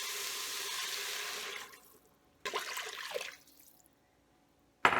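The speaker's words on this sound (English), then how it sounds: "go ahead and add in 4 cups of water." Water pouring into an Instant Pot for tomato basil tortellini soup, a steady splashing stream that stops, then a second shorter pour and a brief clatter at the end.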